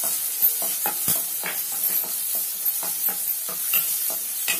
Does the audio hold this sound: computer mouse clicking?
no